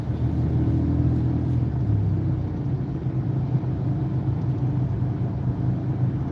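A car engine runs with a steady low rumble and drone while driving in traffic, the driver easing off the gas; close and continuous with no voices.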